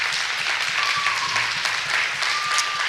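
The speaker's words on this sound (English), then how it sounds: "So can we give them a heartfelt round of applause for their excellent work?" Audience at a jazz festival concert applauding music teachers, a short burst of dense clapping with a faint whistle or ringing tone drifting through, steady and moderately loud.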